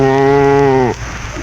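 A loud, drawn-out cow moo with rich harmonics sounds once, close and alone, then cuts off into quiet, used as a sound effect in a 1934 radio comedy western.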